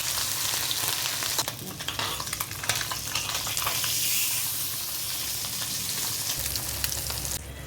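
Chili-coated fish pieces dropped into hot oil, a loud close crackling sizzle with bursts of spattering early on, settling into a steadier fry, no voices.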